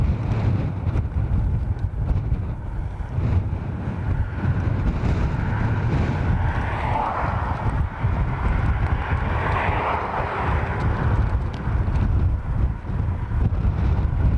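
Steady, blustery wind roars across the microphone at Dublin Airport, a low rumbling rush that swells and buffets throughout with no voices.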